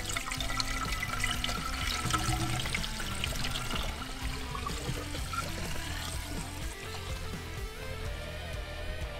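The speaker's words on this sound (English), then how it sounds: "Alright, time to fill her up with some coolant." Premixed 50-50 coolant pours steadily into the cooling system of a wrecked BMW E46 under rebuild, a continuous close liquid gurgle and splash running the whole time with no talking.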